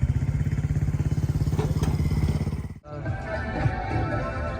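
Boat engine on a boat ride at Mersin port in Turkey, a loud rhythmic low chugging throb that cuts out abruptly, followed by steadier wash and rumble, close by.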